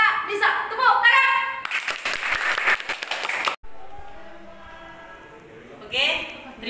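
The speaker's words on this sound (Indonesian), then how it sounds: "Tepuk tangan." An audience at a Scout (Pramuka) session breaks into a burst of clapping for about two seconds, between stretches of a presenter talking.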